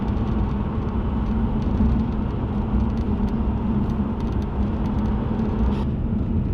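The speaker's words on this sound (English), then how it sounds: "So what we're driving here is a 2002 MG ZT 190 plus" A 2002 MG ZT 190+ with a 2.5 V6 drives along, its steady low engine drone and road rumble heard from inside the car, constant and fairly loud with no talk.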